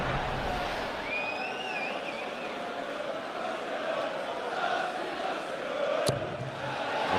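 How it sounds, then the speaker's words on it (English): A darts crowd at the World Darts Championship chanting a player's name, a broad, steady roar of many voices filling the hall, moderately loud, with a commentator talking over it. "The crowd are singing his name."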